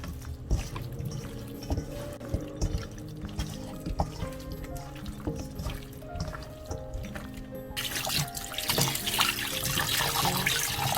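Running tap water splashes into a kitchen sink as food is washed, with clinks and handling noises over the flow, which grows louder and fuller in the last few seconds.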